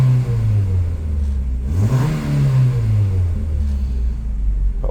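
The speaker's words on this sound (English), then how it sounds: "it's gone back up again to about 1200 RPM." A Rover 214i engine runs near 1200 RPM, a loud close rumble whose pitch dips and then rises again midway, settling into a steady idle.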